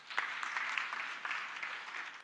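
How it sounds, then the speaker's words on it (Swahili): Audience applause at a gathering, a steady wash of clapping from many hands for about two seconds, fairly distant and even, with no voices over it. "Hebu nipigeni makofi."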